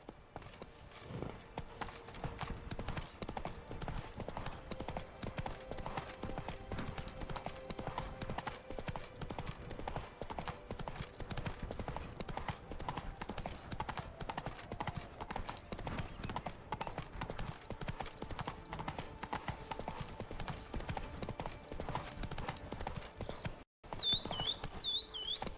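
A horse in The Witcher 3 gallops with a steady, rapid clip-clop of hooves, loud and continuous throughout, under faint occasional speech and a brief whinny-like sound near the end.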